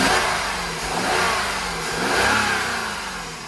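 A Jaguar car with a check engine light on revs close by in two rising and falling swells, a loud mid-pitched engine roar with no talking.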